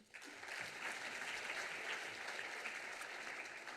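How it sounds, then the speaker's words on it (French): Applause for students at an awards ceremony, steady clapping from a seated audience that starts suddenly and carries on evenly, moderately distant and fairly quiet. "déjà un grand merci aux étudiants, on peut les applaudir."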